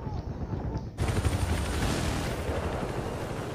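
Rapid automatic gunfire in the Battlefield 4 video game on PS4, loud and sustained after a brief quieter lead-in, heavy bursts blending into a dense roar of battle.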